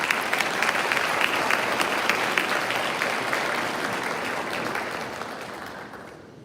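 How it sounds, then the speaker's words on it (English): An audience applauds visiting high school choirs and church members joining the choir at a veterans salute concert; dense clapping fills the room, then gradually fades away at the end. "Let's give them a round of applause."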